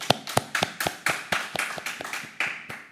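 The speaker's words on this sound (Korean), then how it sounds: "하나님께 영광의 박수를 힘차게 올려드립니다." A small church congregation at an early-morning service claps in a brisk, even rhythm, about a dozen crisp claps close by and fairly loud, with no voices over them.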